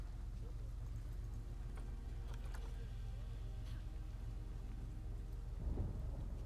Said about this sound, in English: Oh, it's thunder in game.